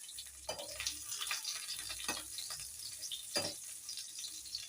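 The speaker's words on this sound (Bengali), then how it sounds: "আর একটু হবে উচ্ছে ভাজা" Bitter gourd slices fry in a pan with a steady, quiet sizzle, broken by a few brief scraping stirs as the pieces are moved around.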